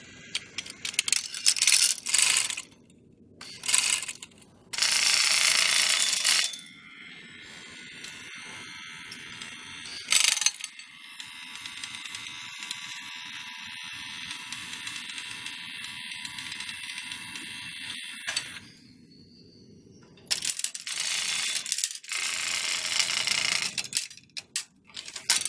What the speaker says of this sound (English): The marbles start at the same height, but hit the ramp at different heights.